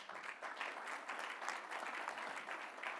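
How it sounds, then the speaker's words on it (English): Applause from an audience at an engineering awards brunch, a steady wash of many hands clapping throughout, fairly faint and distant in the room. "I just want to give him a round of applause."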